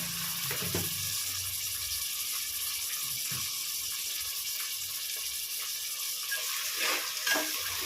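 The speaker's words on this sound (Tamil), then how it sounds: "நல்லா வெங்காயம் வதக்கிடுச்சு" Onions sauté in a pan for prawn biryani with a steady soft sizzle and occasional stirring scrapes, close and continuous throughout.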